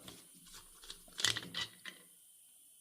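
An adjustable wrench working a plug on a Massey Ferguson 245 tractor's power steering pump, a few faint metallic clicks and scrapes, sparse and close, in a quiet setting.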